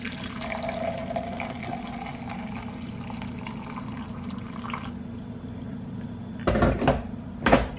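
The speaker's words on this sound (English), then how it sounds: "I'm gonna pour myself some coffee." Coffee poured into a mug in a home kitchen, a soft continuous splashing hiss that stops partway, followed by a few louder clunks and knocks near the end.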